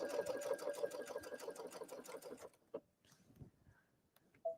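A sewing machine stitching a fabric basket insert runs in a steady fast rhythmic whir for a couple of seconds, then stops, leaving a few faint mechanical clicks and handling noises.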